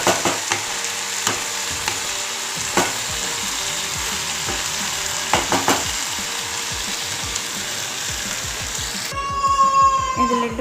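Onions and mixed vegetables cook in a pan over low heat for a vegetable gravy, giving a steady soft sizzle and bubbling throughout, with a brief clatter of utensil stirring near the end.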